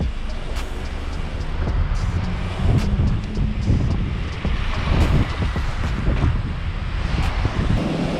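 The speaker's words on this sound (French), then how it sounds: "Oh là là, le vent à droite c'est horrible." Strong wind buffets the microphone in continuous gusts, a loud, steady roar with surging bursts, heard from the road while riding alongside traffic.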